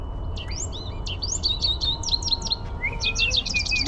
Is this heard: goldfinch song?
yes